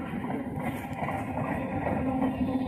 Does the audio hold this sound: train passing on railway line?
yes